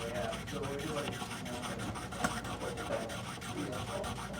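Steady rasping of a file working guitar nut string slots on a Glarry Thinline Tele, continuous scraping strokes close up, with brief speech under it.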